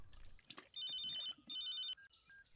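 An electronic telephone ringing in two bursts, a bright warbling ring with a short gap between, followed by quiet room tone in a Hindi-dubbed action film scene.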